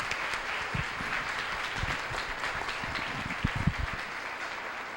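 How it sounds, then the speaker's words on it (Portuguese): A church congregation applauds together at the close of a service, a dense, steady wash of many hands clapping for several seconds at moderate volume with no talk over it. "Podem aplaudir."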